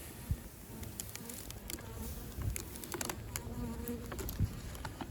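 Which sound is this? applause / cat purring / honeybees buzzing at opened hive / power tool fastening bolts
honeybees buzzing at opened hive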